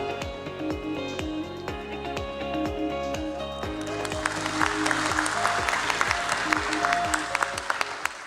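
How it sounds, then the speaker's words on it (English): Rhythmic music with a pulsing drum beat plays at a stock exchange listing ceremony, then about halfway through a crowd's thick, steady applause swells in and continues loudly over the music. "With a big round of applause"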